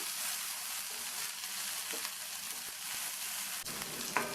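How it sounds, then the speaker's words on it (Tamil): Onion and slit green chillies sauté in a pan for a Tamil okra dish, a dense, even hiss of frying that runs the whole time, with a few light spatula touches near the end and no voices. "இந்த வெங்காயம் 3/4 பங்கு அளவுக்கு வதங்கணும்."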